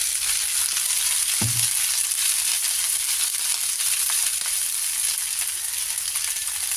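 Leftover rice frying in a pan hisses with a steady, close sizzle throughout, and one soft knock of the spatula sounds early on as it is stirred.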